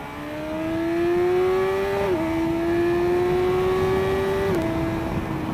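A vehicle engine on a gravel stop near the blue pools of Central Otago, New Zealand, holds a loud steady drone that climbs in pitch twice with brief dips, as if revving hard while pulling a wheelie, with no talk.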